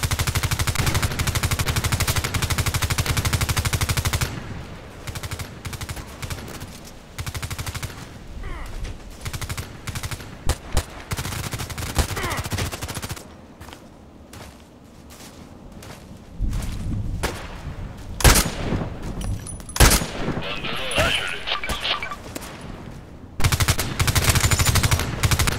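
Gunfire in the online shooter game Contract Wars, bursts of rapid automatic shots alternating with quieter gaps and isolated single reports, loud and close, with game ambience between volleys.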